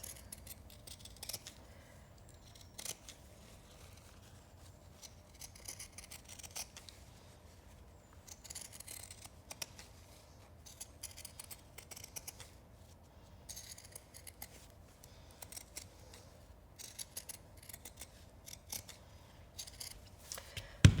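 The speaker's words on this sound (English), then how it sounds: "Again, cut him out with pinking shears." Fabric being cut with pinking shears for a sewn toy's leg, a long run of quiet, close, crisp snips repeating in an uneven rhythm.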